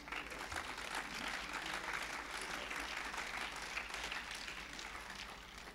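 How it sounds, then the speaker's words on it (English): A church congregation claps their hands in praise during a service, a dense, continuous round of applause that fills the room at moderate distance. "Let's give the Lord a hand clap of praise."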